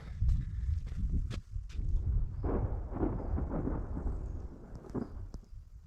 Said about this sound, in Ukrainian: Чуєте, як гримить?